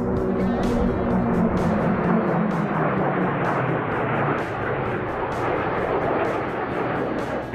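A Gloster Meteor jet passes low over an airshow crowd at around 600 km/h, a loud, continuous broadband roar that stays strong throughout with no speech.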